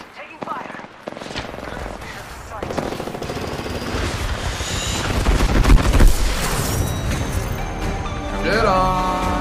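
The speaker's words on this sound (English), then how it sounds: "Getting shot at. I'm taking fire." Rapid automatic gunfire and scattered shots fill a fight in the Apex Legends video game, loud and continuous with sharp bursts, while a player's voice talks over the shooting.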